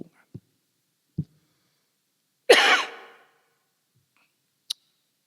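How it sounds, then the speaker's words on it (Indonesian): A single rough cough bursts out loud and close from a preacher at a Wednesday prayer service, set among a few faint clicks and taps in an otherwise quiet room. "Terlalu bersemangat sampai batuk."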